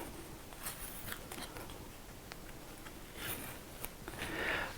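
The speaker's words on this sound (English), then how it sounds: "And then if you just simply pull the tape," Tape is pulled off wood marked for dovetail cutting, a faint dry peeling with small ticks and crackles over several seconds, growing a little louder near the end.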